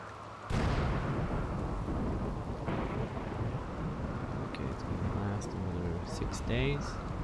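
A thunderstorm in the video game Rimworld, a sudden loud crack of thunder rolling into a sustained rumble over steady rain, with a voice talking over the latter part.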